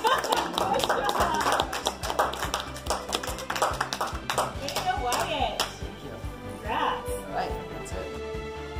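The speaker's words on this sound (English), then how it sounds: "Clap for that." Applause for an art medal from a school reflection contest, many hands clapping in a dense burst that thins out, with voices in the background.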